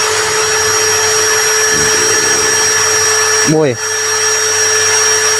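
An Ecosen cordless drill running steadily at speed 2, a loud continuous whine with a high tonal hum through the whole stretch, and a voice speaks briefly over it near the middle.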